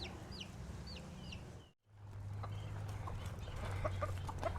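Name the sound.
young chickens clucking in a brooder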